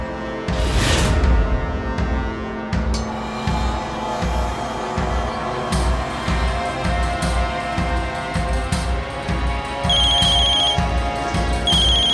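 A telephone rings repeatedly as a call comes back in, its tone cycling steadily and fairly loud over a busy background, with no one talking.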